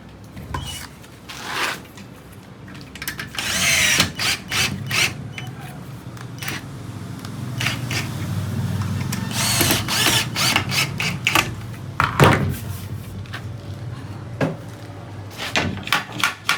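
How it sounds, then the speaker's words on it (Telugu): Screws are driven and tightened into an aluminium bathroom door frame, with bursts of whirring drill, ratcheting clicks and metallic creaks and knocks, close and intermittent across the span with no talk. "ఇప్పుడు ఇందాక చూపించిన విధంగా దీనిలోకి ఇలా స్క్రూ పెట్టేసి టైట్ చేసేసుకోవాలి."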